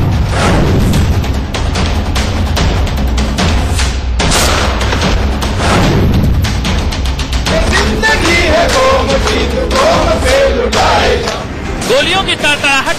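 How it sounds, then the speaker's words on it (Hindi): Rapid bursts of gunfire and heavy booms from Indian soldiers firing at the Line of Control during New Year celebrations, loud and continuous over a dense, roaring background. "गोलियों की तड़तड़ाहट को सुनिए"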